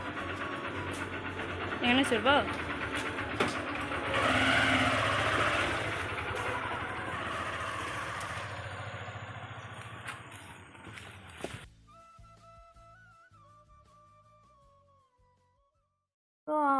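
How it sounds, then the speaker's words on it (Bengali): A motorbike is wheeled out and ridden off at dusk, its engine rumbling close under a mix of voices for several seconds before dropping away to quieter background sounds. "এদিকে বর্মশাই বাইকটা বের করছে"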